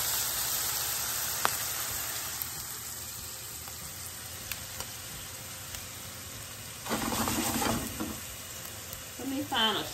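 Browned ground beef sizzles in a pan while it is prepared for tacos, a steady close frying hiss with a few scraping stirs and clinks, growing louder near the end.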